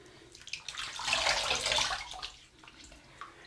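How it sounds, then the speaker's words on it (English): Cold tap water runs for rinsing after a shave with a Gillette Atra razor, swelling into a close, splashy gush for about a second before easing back to softer trickles and drips. "Rinse with some cold water."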